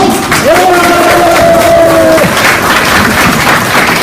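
Crowd applause and cheering at a patriotic citizens' rally in Houston, loud and continuous, with a brief voice-like tone rising above the noise early on before the clapping carries on alone.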